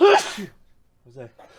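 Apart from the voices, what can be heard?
sneeze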